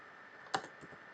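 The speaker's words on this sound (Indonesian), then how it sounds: "di mana kita mengetik nano" A single sharp keystroke on a computer keyboard, faint and close, followed by a couple of softer taps over a quiet steady hum while a command is typed.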